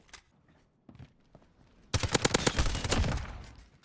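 Submachine gun fire in a video game: faint scattered shots give way to a loud, rapid burst of automatic fire lasting about two seconds, close and dominant.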